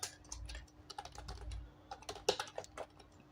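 A computer keyboard is typed on while a username and email go into a sign-up form, giving irregular bursts of soft, close key clicks with no talking.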